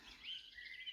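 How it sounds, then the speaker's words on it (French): Small birds chirp in the morning at a holiday spot, with a quick run of bright, high tweets close by over quiet background. "et ça piaille"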